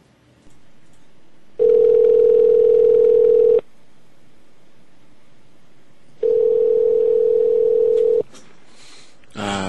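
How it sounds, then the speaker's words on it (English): A telephone dial tone comes as two steady, loud, level tones about two seconds each, separated by quieter line hiss, with a brief muffled sound at the end. "There's nothing like a good dial tone."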